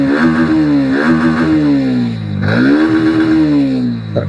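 A Bajaj Pulsar NS 125 ABS motorcycle engine fires up and revs repeatedly to about 9500 RPM, its pitch climbing and dropping in loud, close bursts with a steady idle rumble between.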